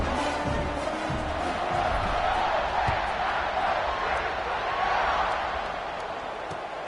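Football stadium crowd before kickoff, a broad continuous roar of cheering and whooping that swells and fades slightly, sustained throughout without any clear voice on top.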